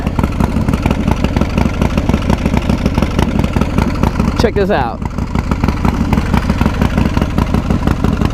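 A loud, heavily modified 140ci Harley-Davidson Fatboy engine with Screaming Eagle parts, CNC ported heads and S&S intake idles with a choppy, lumpy rhythm close by, while someone briefly speaks over it.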